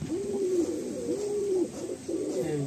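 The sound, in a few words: pigeons cooing in a Madrasi pigeon loft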